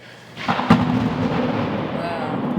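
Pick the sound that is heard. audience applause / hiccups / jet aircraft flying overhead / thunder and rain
thunder and rain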